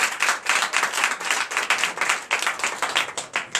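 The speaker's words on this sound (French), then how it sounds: "que je vous demande d'applaudir très fort ce matin" A church congregation at a Sunday worship service in Benin claps loudly. Individual hand claps come through in quick, uneven bursts, close and lively, with the rhythm swelling and dipping over a few seconds.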